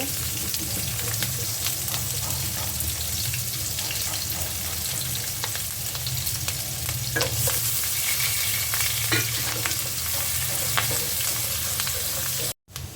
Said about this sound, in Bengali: আপাতত এদিকে তাই পেঁয়াজ ভাজা হচ্ছে।